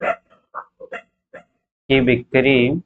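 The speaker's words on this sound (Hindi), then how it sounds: "बाहर वो अपना कुत्ता भौंक रहा है, उस पर ध्यान मत दीजिएगा।" A pet dog barks outside a room where a maths lesson is taught, two loud sustained barks near the end following a man's speech.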